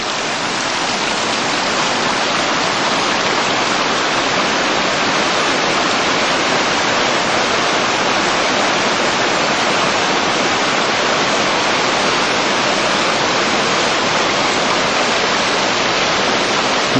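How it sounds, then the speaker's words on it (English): Small streams rush down into a rocky river gully on the River Lenny in Scotland, producing a loud, constant roar of falling water with no pauses and no voices. "They're all made up of little tiny streams all running into the main gully."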